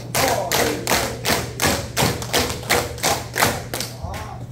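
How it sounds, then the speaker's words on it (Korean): An audience at a health lecture claps in unison ten times, each clap a loud, evenly spaced thump in a steady rhythm, with a low hum underneath. "역시 박수 10번만"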